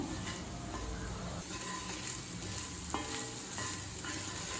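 Potato fry with masala powder cooking on low heat in a pan, giving a steady close sizzle broken by a few scraping stirs of a spoon, with no talking.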